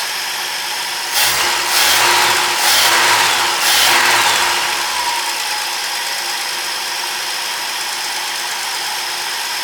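A freshly installed Ford 300 six-cylinder engine in a 1954 International R100 pickup is revved three or four times in quick bursts, then settles into a steady idle that lasts the rest of the recording, with no talking.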